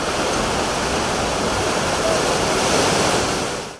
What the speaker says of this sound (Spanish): Entre olas enfurecidas